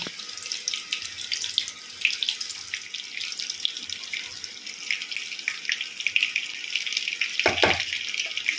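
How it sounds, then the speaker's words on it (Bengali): Pointed gourds are dropped one by one into hot ghee and oil for a Bengali dish, giving a steady bright sizzle throughout with a brief lower splash near the end. "এবার পটলগুলো এক এক করে ছেড়ে দিচ্ছি এই ঘি আর তেলের মধ্যে"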